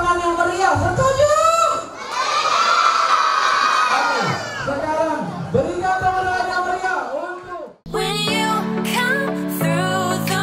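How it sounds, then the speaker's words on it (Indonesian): Children and adults at a third birthday party shout and cheer loudly together, a dense burst of whoops and voices that swells, dips briefly, then gives way to a brighter noisy passage. "semuanya harus tepuk tangan yang meriah"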